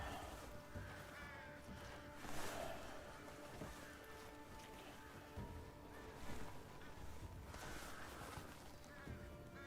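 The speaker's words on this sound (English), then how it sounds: "I don't hear you, but I know you're here because of your crows." Crows caw repeatedly over a busy, textured game soundscape, several harsh calls rising above steady background noise at moderate distance.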